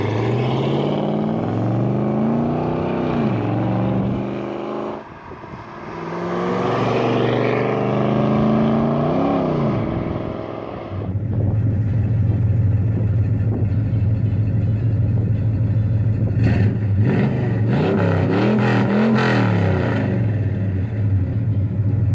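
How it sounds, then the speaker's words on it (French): A Dodge Charger's 383 cubic inch V8 burbles at idle and rises in revs, a loud, deep rumbling engine with several rising and falling rev sweeps, heard alone. "le V8 383 cubic inch là, il chante aussi très bien. Au ralenti, à l'accélération, ouais, il a vraiment un bon glou-glou de V8"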